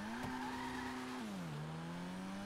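A customized, upgraded Grotti Brioso 300, a compact Fiat 500-style car in GTA, accelerates along an airstrip with a steady, buzzing engine drone that drops in pitch at a gear change partway through.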